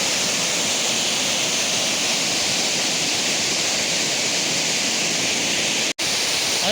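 Water plunges with great force at Kothapalli waterfall, a dense, steady roar filling the whole scene without pause, broken only by a split-second dropout near the end.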